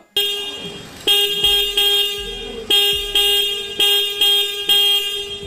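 A KTM Duke 200 motorcycle horn sounds in about seven short, loud, close honks at an irregular rhythm, with no other sound between them.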